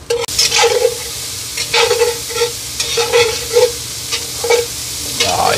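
Jambalaya with sausage being stirred in a big pan over a smoker, a continuous crackling sizzle with repeated rhythmic scrapes of the spoon across the pan bottom, close and clear.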